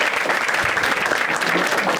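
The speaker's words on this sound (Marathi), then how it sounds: "एकदा टाळ्या वाजायच्यासाठी" Audience at a live Marathi stand-up comedy show bursts into applause, a steady wash of many hands clapping, fairly loud and even throughout, with no talk over it.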